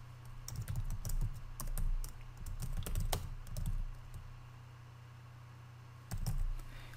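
Typing on a computer keyboard in quiet bursts of quick clicks, several seconds of rapid keystrokes, a pause, then a short final flurry.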